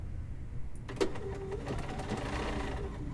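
A sewing machine stitching a quilt block hums steadily and close, its fast needle chatter starting after a quiet beat and running on evenly to the end.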